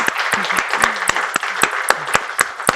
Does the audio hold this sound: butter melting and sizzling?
no